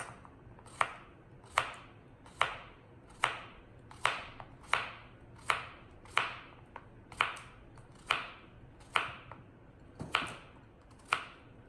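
A knife slices through a vegetable on a chopping board, giving about fifteen crisp, evenly spaced chops at a slow steady rhythm, close and clear against a quiet room.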